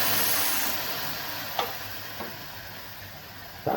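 Hot, crackling tempering is poured into lentil sambar (bele sambar), producing a steady close hiss and sizzle with a few faint clinks of the ladle.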